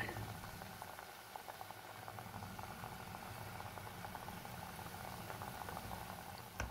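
Indonesian-style banana fritters in batter fry in oil with a continuous low bubbling and crackling, faint and even from start to finish, with no talking over it.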